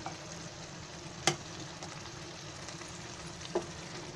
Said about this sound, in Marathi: असं थोडंसं पाणी ओतायचं